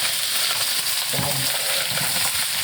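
Vegetables sear in a hot oiled pan with a loud, steady sizzle, and a brief clatter in the middle as they are tossed in and stirred.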